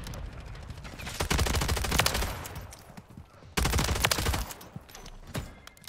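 Dense gunfire in the video game Modern Warfare 3, with sustained automatic bursts that come in two loud waves and a short lull between them, the shots close and rapid.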